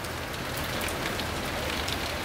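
Steady rain falling outside a car workshop, a dense continuous hiss of drops on surfaces with no voices over it.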